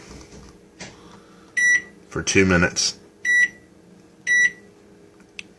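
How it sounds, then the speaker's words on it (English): A microwave oven timer is set with several short, sharp electronic beeps spaced a second or so apart, between bits of nearby speech and a brief kitchen clatter. "I set a timer on my microwave here"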